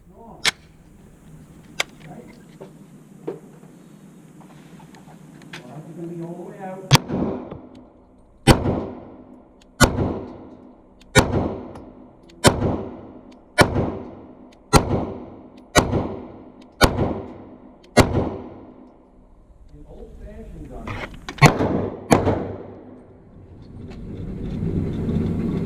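CZ P-07 handgun fired at an outdoor shooting range: about a dozen sharp, loud shots at a steady pace of roughly one per second, each with a short echo, then a couple more shots after a pause.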